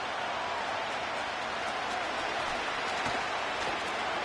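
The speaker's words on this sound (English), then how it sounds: "The rain set to continue as we are underway in the second half." Steady rain falls during a Madden 25 football video game, a constant broadband hiss at even loudness throughout with no clear breaks.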